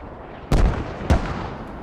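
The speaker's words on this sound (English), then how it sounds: "OB mortars landing on market, straight on that logi that's already been taken out." Mortar shells land in the video game Squad: two heavy, booming impacts about half a second apart over a low rumbling background.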